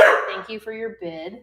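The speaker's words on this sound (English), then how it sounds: "his bark is so loud" A deaf dog barks loudly indoors, a sharp close yip followed by two shorter barks in quick succession, with a person's voice speaking over the start.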